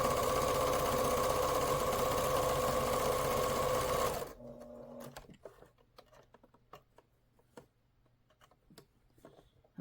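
Sewing machine stitching fabric for a wonky fussy-cut quilt block, running loud and steady for about four seconds, then stopping, followed by scattered small clicks and handling noises.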